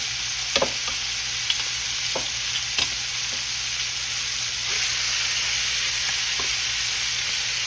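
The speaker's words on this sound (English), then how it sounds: "we're gonna let this sear off" Chicken pieces sear in a hot pan for a home-style baked chicken dinner, giving a steady, close sizzle throughout with a few brief clicks of the pieces being moved and a slight swell in the hiss near the end.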